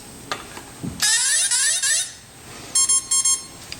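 An RC car ESC plays its startup melody: a rising run of sharp electronic tones, a short pause, then a few clipped confirmation beeps, loud and close.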